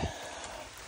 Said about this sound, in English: It's still raining on us, as you can see.